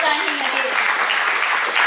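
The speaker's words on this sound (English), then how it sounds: "Let's give a round of applause" Audience at a civil society awards ceremony applauds an award recipient, a brief steady burst of clapping with a speaker's voice over the start.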